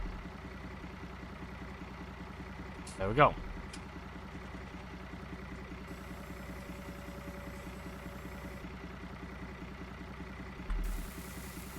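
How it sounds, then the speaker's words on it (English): A tractor engine idles steadily in the Farming Simulator 19 video game, a low continuous drone under someone talking, with a brief clunk partway through. "Probably would help is the engine turned on."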